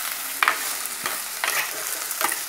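Beetroot fries in a pan for a Sri Lankan curry, with a steady sizzle broken by four distinct scraping stirs spaced evenly and heard up close, without speech.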